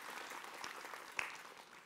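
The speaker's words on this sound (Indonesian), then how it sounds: "Boleh tepuk tangannya jamaah." A studio audience at an Islamic religious talk show claps in a short, dense burst of applause, fairly faint and steady for about two seconds.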